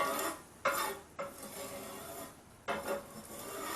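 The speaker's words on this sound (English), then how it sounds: "Yeah, it's putting it in a metal pan." Hot slices of French toast set into a metal pan: three short scraping clatters of food and utensil against metal, close by, separated by quiet pauses, with no voices.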